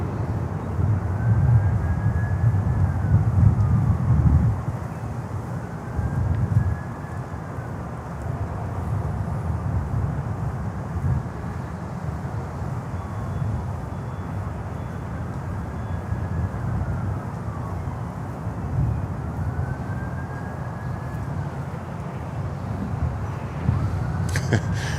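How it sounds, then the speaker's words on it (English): An American Airlines Airbus A319 on approach to land at Miami Airport, a steady, moderately distant engine roar and rumble with a faint thin whine drifting through over about 25 seconds. "we have American Airlines with a 319 coming in over there"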